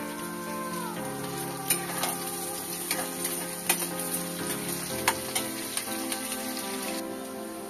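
Chopped onion frying in spice-tempered oil in a pan for a mutton tehari, with a bright steady sizzle and crackle and sharp spattering pops scattered throughout, beneath a sustained tonal background.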